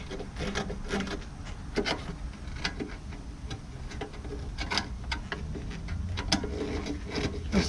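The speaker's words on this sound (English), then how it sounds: "these I'm just screwing in by hand." Small screws being turned by hand into an LED headlight assembly, a run of faint, close clicks, ticks and light rubbing of threads and plastic, irregular and quiet with no talk.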